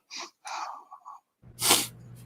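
A short breathy intake is followed by a sharp, loud sneeze burst, close up, with brief vocal sounds just before it.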